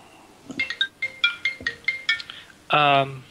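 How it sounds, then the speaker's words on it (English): A cell phone rings during a tabletop Dungeons & Dragons session. A string of bright, melodic electronic tones repeats quickly, and a longer, louder buzzy tone follows at the end. "My cell phone goes off."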